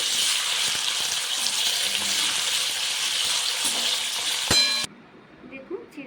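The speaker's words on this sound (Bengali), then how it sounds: "আলুগুলো আমি ছোট্ট ছোট্ট করে কেটে নিয়েছি একটু ভেজে নেব" Small diced potato pieces fry in hot oil in a pan for Bengali chire pulao, a loud continuous sizzle that ends abruptly with a metallic clink, then near quiet.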